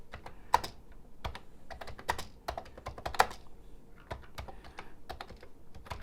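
Typing on a Commodore 64 computer keyboard: a close, irregular run of crisp plastic key clicks, with quick bursts and short pauses, no voices.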